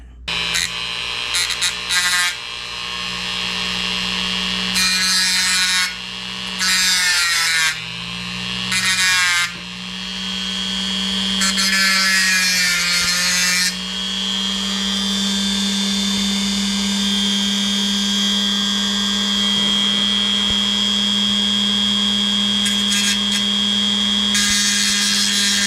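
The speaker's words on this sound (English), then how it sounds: "so it's Dremel time." A Dremel rotary tool grinding the plastic of a 1:48 Revell F4U-4 Corsair model kit to lengthen an opening: a high whine that starts and stops in short bursts, then runs in one long, steady stretch.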